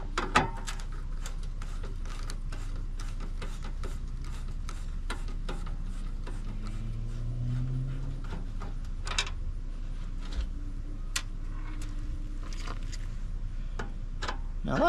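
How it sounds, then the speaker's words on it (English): Quiet workshop clicks and ticks as Torx screws are backed out of the headlight ring on a 2006 Jeep Wrangler, with scattered sharp taps and ratcheting over a low steady hum. "Alright, so first of all we'll start with removing the headlight ring."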